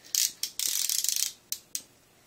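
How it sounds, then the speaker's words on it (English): A torque wrench ratchets on an AR-15 barrel nut with a few sharp clicks, a fast run of ratcheting, then two more clicks, close up with no speech. "Then you go back to your torque wrench at 30 foot-pounds."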